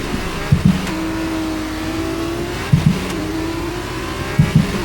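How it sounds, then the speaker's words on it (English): An F2 race car launching at the Jeddah Corniche Circuit in the F1 23 video game: a loud, steady engine whine climbing in pitch through repeated gear shifts, each marked by short punchy bursts, with no voices. "You can really get a good launch with these F2 cars"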